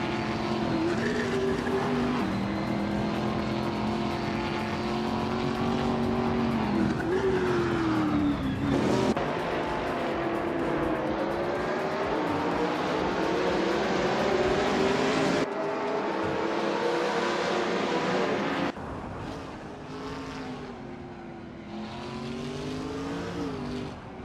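Race cars in a video game roar continuously with high, sustained engine whines that rise and fall through gear shifts and passes, loud and close throughout, with no talking.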